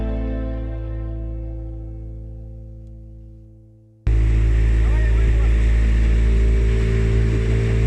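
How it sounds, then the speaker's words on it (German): A fast Soviet-era motorboat: a humming engine tone fades away, then a sudden loud, close roar of engine and rushing wind and water fills the rest, steady and unbroken. "Mit einem schnellen Motorboot der Sowjetunion-Zeiten, aus der Zeiten von Nikita Chruschtschow"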